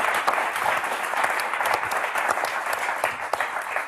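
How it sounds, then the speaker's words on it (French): A studio audience at a French television word game show applauds steadily with dense, continuous clapping at an even level throughout, with no voices over it. "Donc, on vous applaudit très fort."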